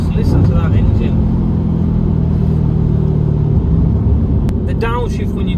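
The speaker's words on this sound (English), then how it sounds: "Just listen to that engine." Audi RS4 B7 engine revving loudly and steadily up close, a deep sustained rumble with a brief blip near the end, while a person talks over it.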